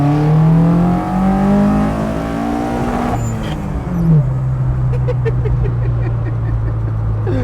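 A Focus ST-engined Mk1 Ford Escort revs loudly while driving, its pitch climbing then dropping through a gear change and settling into a steady, throaty drone.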